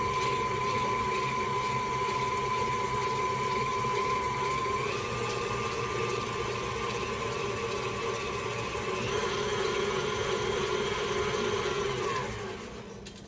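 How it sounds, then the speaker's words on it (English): An electric mixer beats egg, sugar, butter and vanilla for lemon cookie dough, giving a steady whirring motor hum that shifts pitch slightly partway through and fades out at the end. "we're going to mix our egg with our sugar and our butter and our vanilla."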